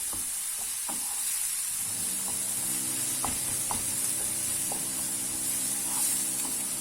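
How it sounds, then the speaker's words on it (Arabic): Chopped onion and courgette sizzle steadily in a hot pan with a little harissa, a constant close hiss with light scraping clicks from stirring scattered throughout. "غنستمروا في التحريك حتى تبان لينا الكورجيت ديالنا ديال البصل"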